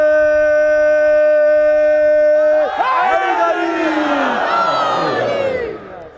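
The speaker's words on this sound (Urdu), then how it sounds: "نعرے" A crowd at a Shia religious procession chants slogans together in loud, swelling unison voices, opening with sustained harmonic tones before breaking into a dense, roaring mass of overlapping shouts that fades toward the end.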